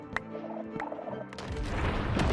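Minecraft chickens cluck in short, close bursts in the game, followed by rising crunchy game noise toward the end.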